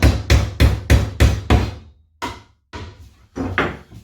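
Hammer tapping a wooden rail of a National beehive box into place: six sharp, evenly spaced knocks, then a pause and three lighter, irregular taps, close and loud, no talk.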